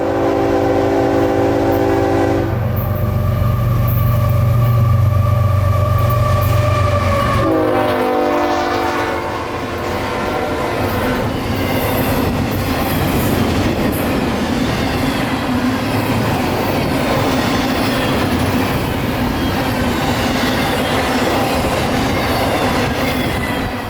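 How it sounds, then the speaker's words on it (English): Northbound mixed freight train Q442 out of Tampa passes close and loud, its horn blaring in long chords before rolling cars take over with steady clickety-clack and wheel squeal. "It's Q442 northbound mixed freight out of Tampa every night"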